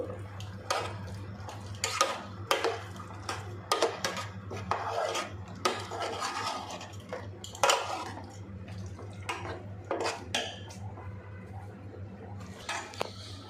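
Chiroti rava being mixed with water in a bowl for North Karnataka pundi palya, giving close, irregular scraping and clinking strokes with a few louder knocks over a steady low hum.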